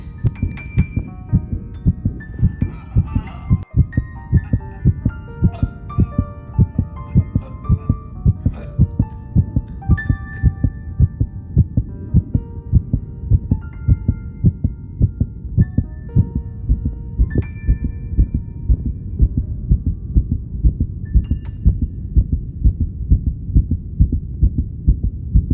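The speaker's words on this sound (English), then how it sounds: "the heart beat on with a muffled sound" A muffled heartbeat sound effect for a reading of Poe's The Tell-Tale Heart: steady, evenly spaced low thumps that repeat for the whole stretch, with no voice over them.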